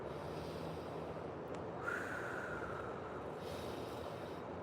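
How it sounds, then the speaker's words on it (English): Deep, slow inhale through the nose during a live yoga workout, a single long breath heard faintly and close against a steady room hiss. "Big deep breath."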